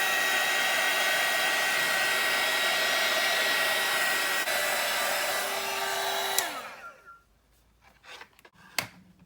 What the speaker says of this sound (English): you can help it along with a little bit of heat